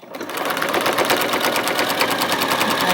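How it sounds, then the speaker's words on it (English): A home sewing machine runs steadily at close range, stitching along a printed line for foundation paper piecing on a quilt block, its fast even hum holding for about three seconds with no talk. "I'm going to stitch right on that line"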